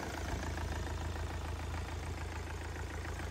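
A Yanmar 4TNV98 four-cylinder diesel engine, 98 mm bore and about 62 kW, idles steadily up close with an even low rumble and no pauses throughout, with no talking.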